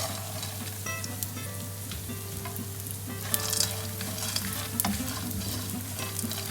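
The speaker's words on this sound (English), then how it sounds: "Put a little bit ghee. I'm going to fry the nuts." Nuts frying in ghee in a heated pan, a continuous close sizzle with a low steady hum beneath and scattered sharp crackles and stirring clicks.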